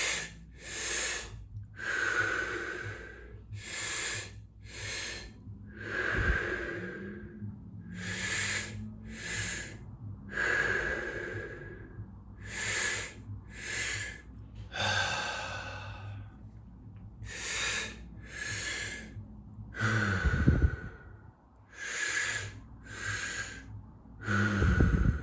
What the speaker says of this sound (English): Feel the breath, feel the exhale creating a vibration in your head.